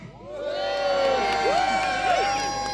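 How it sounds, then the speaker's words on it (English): A festival crowd at the Robin Hood Festival in Sherwood Forest cheers and whoops for Friar Tuck during a mock tournament, a loud, sustained roar of many voices with rising shouts and children's cries mixed in. "So here it comes, a cheer for Friar Tuck."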